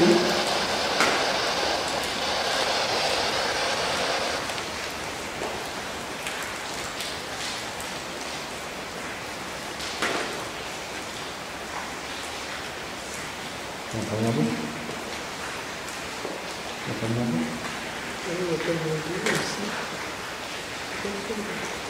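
Heavy rain streams down everywhere around an old sanatorium, a dense continuous hiss of water that fills the background while people talk quietly over it.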